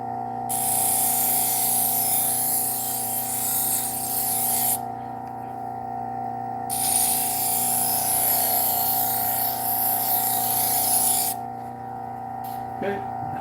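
A leather buffing wheel loaded with compound spins while a knife is honed on it. A steady motor hum and whine is broken by two short pauses and a brief clunk near the end.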